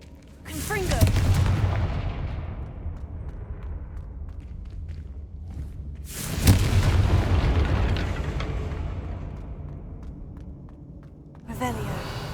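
Confringo blasting spells in Hogwarts Legacy explode in three heavy booms, each a loud burst that rolls off into a long fading rumble, the last cut short.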